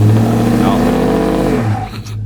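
A 2019 Ford F-150 pickup with a 6-inch lift and 35-inch tires, its engine revving loudly and close as it is put in drive, with strong harmonic tones that rise and then fall away at the end.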